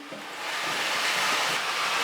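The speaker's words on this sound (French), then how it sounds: "j'ouvre le robinet à fond" A shower head runs with the tap opened fully, giving a steady broadband rush of water that swells in the first half second and then holds loud and constant.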